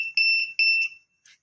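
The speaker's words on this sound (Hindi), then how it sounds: "ये लाइव के दौरान ही हमें पता लग गया कि अलार्म बजा है" Electronic alarm on an automatic packing machine: a loud, clean two-tone beep sounding in three pulses, followed by a faint brief noise and silence.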